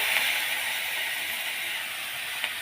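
Fish oil sizzling in a pan for a Bengali fish curry with cumin powder and green chilli paste, a steady bright hiss close by with a small pop near the end and no talking.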